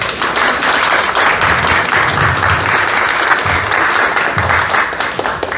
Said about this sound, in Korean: 잠깐 박수 부탁드립니다.